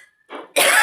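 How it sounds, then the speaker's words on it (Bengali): A single sharp cough from a person fasting during Ramadan, close and loud, preceded by a softer throat-clearing sound. "এবার কাশি হয়"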